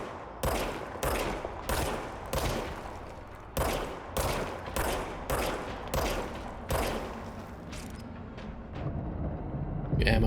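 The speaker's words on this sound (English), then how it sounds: "Okay, now I have a gun. Fire service weapon." Service weapon firing in the video game Control: a rapid, steady series of loud gunshots, about a dozen evenly spaced blasts over several seconds, then a few quicker trailing shots.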